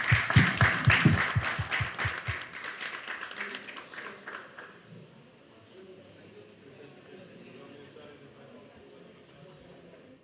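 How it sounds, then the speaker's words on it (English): Audience applause for conference panelists at the close of a session on water and sustainable development, a burst of clapping that fades out after a few seconds, with faint room murmur and talk under it. "I'll ask for an applause for our panelists."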